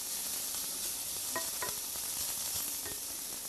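Garlic sautéing in a pan with only a little oil gives a steady, close sizzle with faint clinks of stirring, and no voices.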